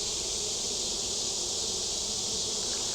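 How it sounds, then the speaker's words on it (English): Honeybees fan at a hive entrance, producing a dense, continuous buzzing hum that stays steady throughout with no voices. "So they're fanning that queen's pheromone out in here for the other bees to know to go back in."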